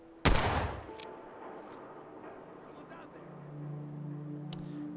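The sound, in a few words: gunshots at raiders in video game Fallout 4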